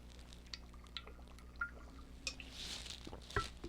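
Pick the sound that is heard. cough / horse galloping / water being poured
water being poured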